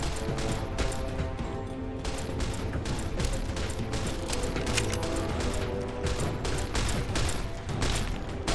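Rapid bursts of gunfire in the game Fallout, a dense fusillade of repeated shots and mechanical clatter running throughout, loud and close.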